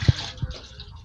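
Rinse water is poured off washed fish heads, heard as two brief close splashes followed by a soft, fading slosh of draining liquid.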